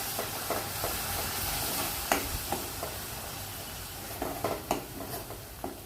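Coconut paste masala frying and bubbling in hot oil for a Khandeshi sev bhaji, with a steady close sizzle and a few sharp clicks of a spoon stirring against the pan.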